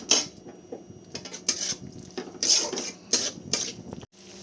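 Ground spices frying and being stirred in a pan for mushroom masala, heard as repeated metallic scrapes and clinks of a spoon against the pan in irregular bursts, close and fairly quiet, with no talk.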